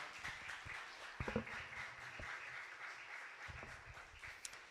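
A young adults' church gathering applauds to welcome a pastor, with light, scattered clapping heard at a distance alongside a few louder thumps and knocks nearby.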